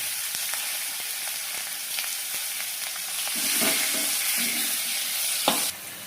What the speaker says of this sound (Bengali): জিরে ফোড়ন দিয়ে দেবো, 1টা শুকনো লঙ্কা দিয়ে দিলাম, পেঁয়াজ কুচিগুলো এর মধ্যে দিয়ে দিলাম